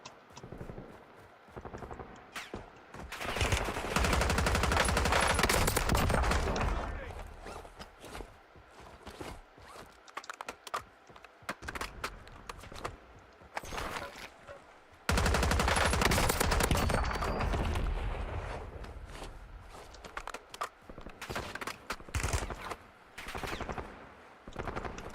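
Warzone gunfire in bursts: two long stretches of dense automatic fire alternate with scattered single shots and shorter bursts, loud and close.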